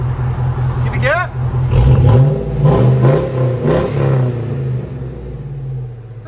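A 2006 Hummer H2's 6.0L V8 with a Flowchaser muffler is blipped through a few quick throttle revs, swelling into a loud, rumbling exhaust roar before easing back toward idle, close to the tailpipe.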